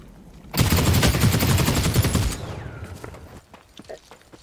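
Kaiser automatic gunfire in The Cycle Frontier video game: a loud, rapid burst of shots lasting about two seconds, then a fading echo and a few faint scattered clicks.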